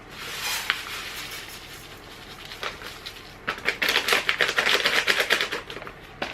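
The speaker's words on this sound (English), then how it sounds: "So I'm now going to add the 2 bags of the stuffing mix to a bowl." Two bags of dry stuffing mix are tipped into a bowl, giving a crisp, dense rustling patter of crumbs that builds into a loud, rapid scatter toward the end, close by.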